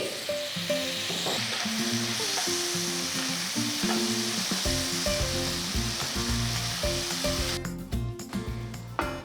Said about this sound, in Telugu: దీంట్లో రెండు మీడియం సైజ్ టొమాటోలు మంచి పండిన టొమాటోలు రెండు వేస్తున్నాను తరిగి వేసుకోండి